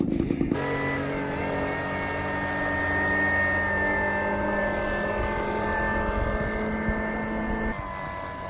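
Model Cessna airplane flies at its maiden outing, its nose-heavy propeller engine giving a steady buzzing drone at moderate distance with a strong tonal whine after a brief sputtering start, then fading slightly at the end.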